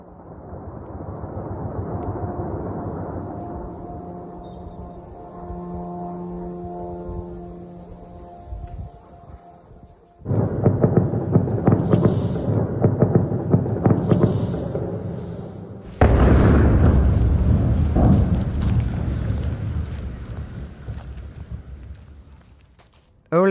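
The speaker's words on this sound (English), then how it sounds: "the sound of Ukrainian anti-aircraft fire, which I heard late one night, followed by the kinds of explosions that follow whenever missiles land" Ukrainian anti-aircraft fire at night followed by missile explosions, captured outdoors on a walk: a long rumbling drone, then sharp bursts of crackling fire and a heavy, sustained roar of blasts at moderate distance.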